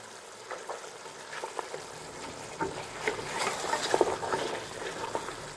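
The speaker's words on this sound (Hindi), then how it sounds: "पाए अच्छी तरह भुन चुके हैं।" Paye, trotters, roast in a pot with half a cup of yakhni, a close, swelling sizzle broken by scattered spatter pops and stirring scrapes.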